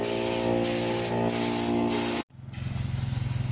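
Paint being sprayed onto the rear bumper of a salvage Kia Optima, a loud steady hiss with a few pulsing bursts, a brief pause, then the spraying resumes with a rhythmic throbbing hum underneath.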